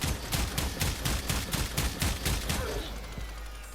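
Kuva Kohm shotgun in the Warframe video game, firing a rapid, steady burst of loud blasts that keeps a quick even rhythm before cutting off, with no talk over it.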